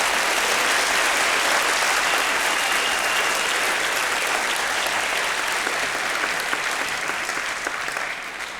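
Sustained audience applause for Professor Ilan Pappé at a talk event, a dense wash of clapping from a large crowd that holds steady and then eases off slightly at the end.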